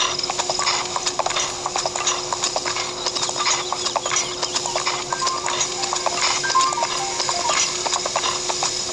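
Steady clip-clop of horse hooves at a gallop in The Legend of Zelda: Breath of the Wild, rhythmic and continuous over a constant hiss and background hum, with no voices.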